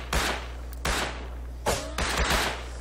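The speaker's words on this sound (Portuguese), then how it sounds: "Tô vendo tiro de vários lados ali." Gunfire coming from several directions in the video game Rust, about five sharp shots in uneven bursts over a steady low hum, with no talk.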